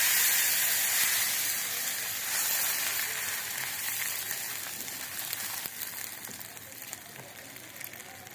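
Butter tadka sizzles in a hot pan, a loud, bright, continuous frying hiss that slowly settles and softens, with faint crackles near the end.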